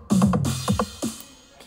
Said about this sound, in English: So I have added a drum fill onto mine and it sounds like this.